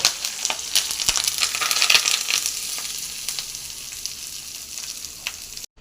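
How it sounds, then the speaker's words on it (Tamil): Mustard seeds and curry leaves sizzle and crackle in hot oil for a coconut chutney tempering, a close, bright frying hiss with scattered pops that fades toward the end. "கடுகு பொறிஞ்சிச்சு கரவாலை போட்டு கரவாலை போட்டு தூரமாக இருங்க"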